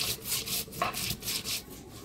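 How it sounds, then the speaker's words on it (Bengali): Ginger, coriander and dried chillies are ground together on a stone for a village fish curry, a rhythmic back-and-forth rubbing scrape repeating about every quarter second, close and fairly soft, with no talk. "মাছের ঝোলের জন্য আমি আদা, ধইনা আর শুকনো লঙ্কা একসাথে বেটে নেব।"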